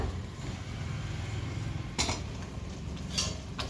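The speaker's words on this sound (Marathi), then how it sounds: "आता थोडं 1 मिनिट झाकण ठेवूया, मसाला चांगला फ्राय होण्यासाठी तेलामध्ये।" A metal lid set onto a pan of masala frying in oil, two sharp clanks about a second apart over a low steady background with no talk.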